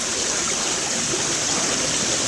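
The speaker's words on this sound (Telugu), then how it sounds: "వాటర్ అయితే ఇక్కడి నుంచి వస్తున్నాయి." Water pours steadily from a tank at a Hindu temple, a continuous close rushing flow with no pauses or voices.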